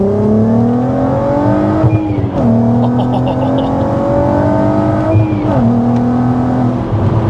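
Loud 360bhp supercharged Mk4 VW Golf R32 engine with a steady supercharger whine, revving up in long pulls with brief dips between gear changes, close and continuous.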